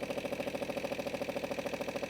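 A John Deere 2653A mower engine idles just after starting, a steady, even, rapid chugging pulse with a constant mid-pitched drone, close and alone.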